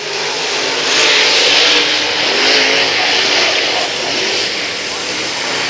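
Race cars roar around the Brownstown Speedway dirt track on the closing laps, engines a loud, steady, swelling drone that peaks and eases as the field passes, with an announcer talking over the noise.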